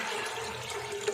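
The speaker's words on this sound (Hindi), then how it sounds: "पानी डालेंगे" Water poured over chickpeas in a pot before pressure cooking for Lahori murgh cholay, a short, close splashing rush of liquid.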